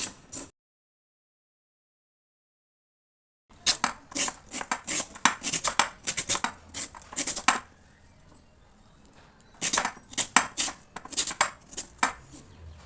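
Quick, rhythmic knife chops on a board as cauliflower, beetroot, carrot and potato are cut, arriving in two bursts after a stretch of silence, close and fairly crisp.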